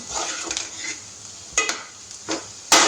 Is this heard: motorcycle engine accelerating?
no